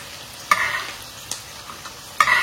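Onions frying in hot oil for pulao, a steady sizzle that surges sharply twice as the pan is stirred or more food goes in, close and moderately loud with no talking.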